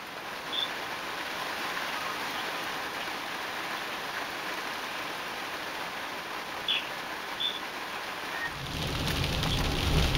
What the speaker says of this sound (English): raining hella hard there.